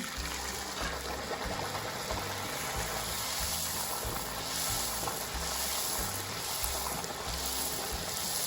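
Puri dough frying in hot oil gives a continuous loud bubbling sizzle with a steady hiss, heard close up and without speech throughout.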